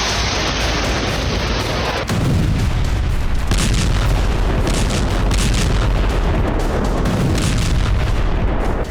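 Heavy bombing from fighter jet strikes in northern Gaza, a continuous deep roar of explosions and rumbling blasts that swells after a couple of seconds, loud and dense with no speech.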